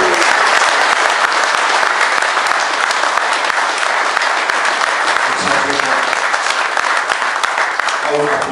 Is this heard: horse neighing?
no